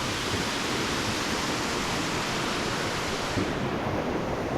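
Waterfall in North Thailand gushing with a strong flow, a loud, constant roar of falling and crashing water heard up close, with no voices.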